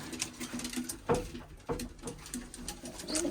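Soft pigeon cooing close by, low throaty calls repeating among light patter and rustling.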